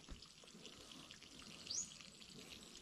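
Water from a mountain stream runs through a hose into a small backyard fishpond, a steady faint splashing and trickling wash that holds level throughout with a slight swell near the end.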